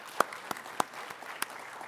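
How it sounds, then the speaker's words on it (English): Thin, scattered applause at an opening ceremony: only a handful of distinct hand claps ring out at uneven intervals, faint against a quiet room murmur. "Give yourselves a round of applause and thank you very much."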